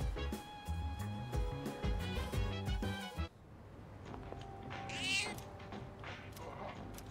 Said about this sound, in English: Alright, we'll go to the cat.